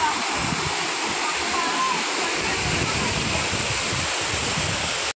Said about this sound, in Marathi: बघा, एकंदरीत असा आहे हा इकडचा धबधबा।